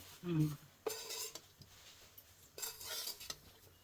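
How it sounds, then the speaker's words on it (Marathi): An ingredient roasts in ghee in a pan while a utensil stirs, giving sharp metallic clinks and scrapes over a faint sizzle, with someone speaking briefly. "तर ही आपल्याला अशी भाजून घ्यायची आहे, थोडीशी ब्राऊन होईपर्यंत ना."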